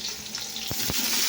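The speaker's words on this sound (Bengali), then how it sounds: "মানে আনাজের সাথে পেঁয়াজটা ভাজা।" Onion tossed in with chopped vegetables in a pan without oil, giving a steady dry sizzle with a couple of short stirring scrapes, close and alone without talk.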